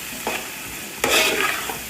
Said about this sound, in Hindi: फिर मिक्स करेंगे अच्छे तरीके से।